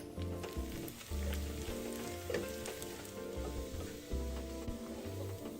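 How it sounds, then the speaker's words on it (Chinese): Sliced shallots fry in oil in a wok over medium heat, a soft, continuous crackling sizzle with faint pops and clatter, heard alone at a low level. "小红葱50克，切片后放入锅内爆香。"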